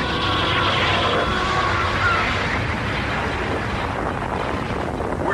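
Sci-fi radio drama explosion effect: a dense, sustained roaring blast that fills the whole clip at steady loudness, with rumbling low end and hissing noise, no speech over it.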